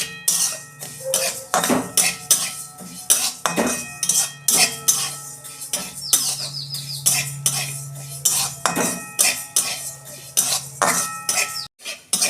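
Moong dal is stirred in a dry pan with a metal spatula, producing repeated close scrapes and clinks against the metal in an uneven rhythm, with occasional rattles of the pan and no talk.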